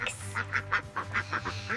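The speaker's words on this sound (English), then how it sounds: "These are ducks." Ducks quacking in a quick series of about eight nasal calls, close and fairly loud over a low steady hum.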